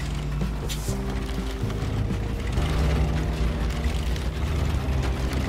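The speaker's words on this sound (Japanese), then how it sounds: "いや、この車めちゃくちゃ静かだったんだな。" A quiet truck drives in the SnowRunner video game, its low steady engine hum and drone continuing evenly under a faint background wash of noise, with no talk.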